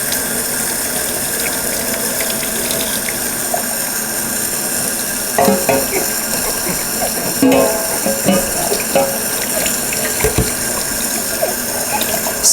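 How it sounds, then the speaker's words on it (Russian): Warm water running from a tap to rinse soap off a champagne glass decorated with dried flowers, a steady continuous stream with occasional clinks and splashes as the glass is handled. "Смываю мыло."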